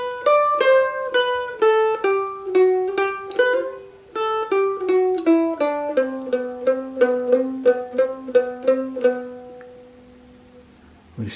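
Solo mandolin plays a continuing phrase of the melody, a steady run of crisp plucked notes stepping downward, closing on a lingering ringing note.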